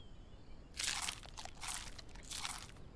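Three loud, bursty crunching chews in quick succession, an elephant munching food in the video game Animalia, over a faint low background.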